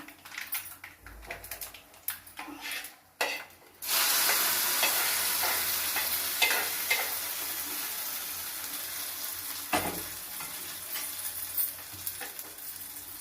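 Okra curry (bendakaya) frying in a pan, with irregular stirring scrapes at first, then a loud sustained sizzle and bubbling as ingredients go in, plus occasional utensil knocks, close by and with no talk.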